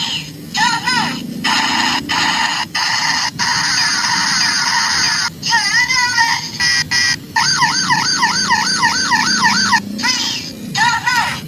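A toy police patrol car sounds a loud electronic siren, warbling and wailing in repeated bursts broken by short gaps, close by and alone.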